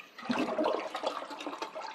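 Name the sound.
toilet tank flushing and draining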